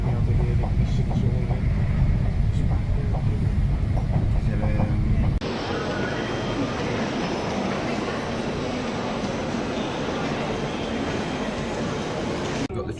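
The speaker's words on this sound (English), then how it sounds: "getting the train to Naples now." Train ride toward Roma Termini, a steady rumbling rail interior drone that shifts abruptly midway to a brighter, broader rushing noise, loud and continuous throughout.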